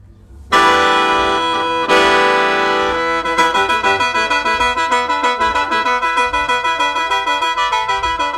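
An old Thai khaen, a bamboo mouth organ, plays loudly and alone: a sustained reedy chord, a brief break, then a fast pulsing run of rhythmic repeated notes.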